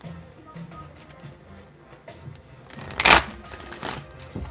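Tarot cards being shuffled by hand, with rapid riffling and soft slaps close up and one louder burst of riffling near the end, with no talking.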